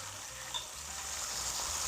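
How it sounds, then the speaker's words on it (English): A tortilla sizzles in a hot pan while birria tacos are cooked, giving a steady, close frying hiss throughout with a faint clink partway through and no talking. "So now you can hear that tortilla kind of sizzling there"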